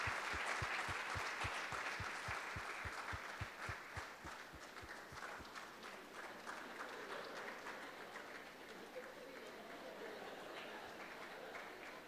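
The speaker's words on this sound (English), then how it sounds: "Let's clap our hands." A church congregation at a Sunday service in Pune applauds with a dense, sustained wash of clapping. Steady rhythmic thumps run through the first few seconds, then the applause continues evenly to the end.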